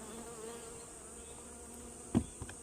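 Honeybees hum steadily during a beehive inspection, a faint, continuous buzz with a couple of brief knocks near the end.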